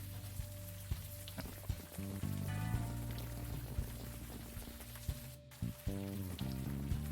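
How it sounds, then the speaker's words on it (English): Steady rain falls in the video game Unavowed, a soft continuous patter under faint game music and a low hum, with occasional brief ambient knocks. "standing here in the rain, guarding a wreck"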